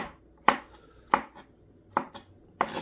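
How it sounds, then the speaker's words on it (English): A knife slices quickly through mushrooms on a cutting board, giving four sharp, close knocks at roughly even intervals with quiet gaps between them. "Mushroom, again, I'm just quickly slicing."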